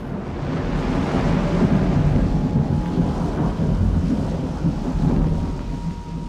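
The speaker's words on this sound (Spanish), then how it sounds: "la tormenta arreciaba y enormes caudales de lluvia golpeaban a su ejército" Steady heavy rain pours down with deep rolling thunder rumbling through it, loud and enveloping, no voices.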